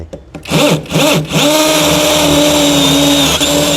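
An STR three-mode cordless drill set to hammer mode bores into concrete. A few short revving bursts give way to a loud, sustained whine with a rough grinding edge, heard up close with no talking.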